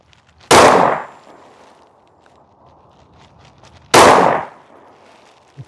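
Two sharp, loud handgun shots of low-cost self-defense ammunition fired outdoors, spaced a few seconds apart, each with a brief decaying tail and quiet background between.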